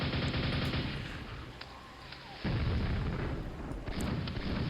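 Rapid, sustained nail gun fire in Quake: Arcane Dimensions, a dense stream of close, loud mechanical shots that briefly thins and then resumes at full intensity.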